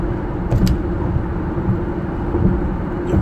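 Steady road and engine rumble inside a moving car, a loud continuous low drone with a few brief clicks.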